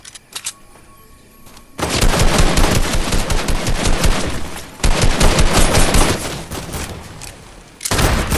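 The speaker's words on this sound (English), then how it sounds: "Someone was shooting over this way." Fortnite gunfire erupts in loud, sustained automatic bursts, with a short quiet lull before the shooting starts and two brief breaks between the volleys, all close and dominant.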